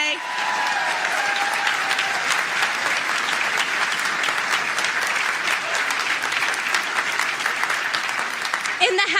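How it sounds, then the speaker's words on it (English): A crowd at a political rally applauds veterans with loud, sustained clapping that holds at an even level from start to finish, with a busy, close-sounding mass of hands. "Let's give them a big round of applause today."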